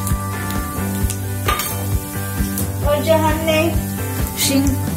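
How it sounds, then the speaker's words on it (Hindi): Cumin seeds crackle and sizzle in hot oil in a pan, with a few utensil clinks and scrapes over the steady frying hiss. "हमारा ऑयल भी गर्म हो चुका है तो हम इसमें तड़का लगाएंगे"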